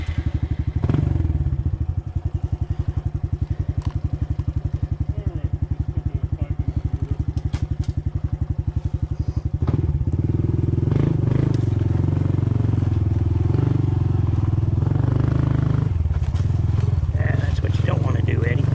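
Honda CT125 Trail motorcycle engine running loud and close, a rapid pulsing throb for the first half, then a steadier heavier roar as it rides off, with voices talking over it.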